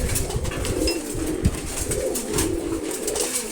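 Male pigeons in a pigeon loft coo steadily and close by, with overlapping throaty calls that run through the whole stretch and no talk.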